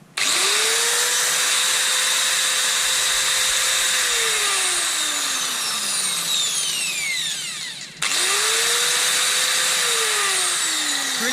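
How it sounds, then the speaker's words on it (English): Repaired angle grinder with a fixed switch and new carbon brushes, whining up to speed, running steady, then spinning down before being switched on again, loud and close with no talk. "Switch repaired, brushes repaired. A useful angle grinder."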